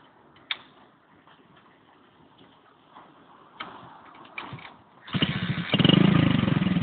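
A motorcycle idles in neutral with faint ticking and clicks at first, then the engine roars up loudly and runs steadily for the last couple of seconds.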